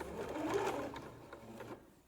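A home sewing machine runs a short backstitch while upcycling a T-shirt into a bralette, giving a brief, fairly quiet mechanical whir for about two seconds with no talking.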